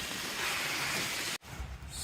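Steady rain falls along the Florida Trail, a dense continuous hiss that cuts out abruptly for an instant before resuming.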